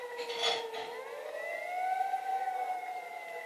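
A video game fire truck siren wails with a slowly rising and falling tone, moderately loud and sustained, heard alone.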